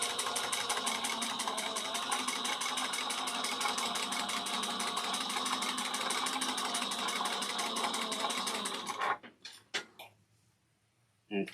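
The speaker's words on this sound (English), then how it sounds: "And I'm going to top stitch that 1/8 of an inch." A sewing machine top stitching a tote bag runs in one continuous fast, even rattling burst for about nine seconds, close and loud, then stops, followed by a few small clicks and handling noises.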